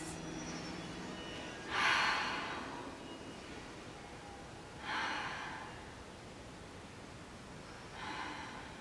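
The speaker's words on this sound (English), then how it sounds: "Let's take those 3 big breaths." Three big breaths taken during a yoga stretch in a virtual exercise class, each a soft, airy rush of breath spaced about three seconds apart, faint over a steady background hiss.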